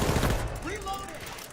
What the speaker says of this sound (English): Oh, he's got the double barrel. Oh, shots, full shots.